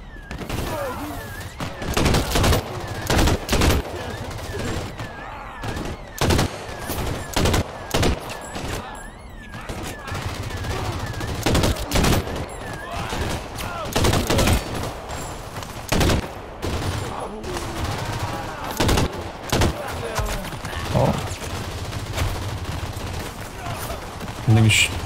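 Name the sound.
rifle gunfire in a video game battle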